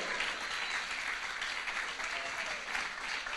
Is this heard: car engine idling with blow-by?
no